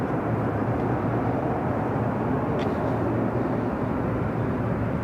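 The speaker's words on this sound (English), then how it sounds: "this flight heading to JFK, now rolling down to 24 left" An airliner bound for JFK takes off on runway 24 left at LAX, a steady, loud broadband jet roar that holds throughout with no talk.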